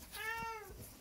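Single clear meow from a pet cat, moderately close with a bright harmonic tone, bending upward and then sliding down, with no talking over it.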